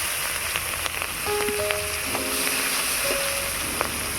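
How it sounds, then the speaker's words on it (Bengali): Chopped onion drops into hot oil already tempered with a dried red chilli and black cumin, raising a steady close sizzle and crackle that holds for several seconds with no talk over it. "এবারে দিয়ে দেবো পেঁয়াজ কুচি"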